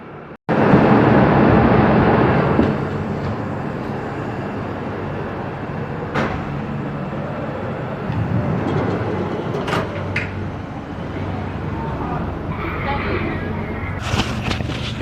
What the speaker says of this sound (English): Well, here's our train now.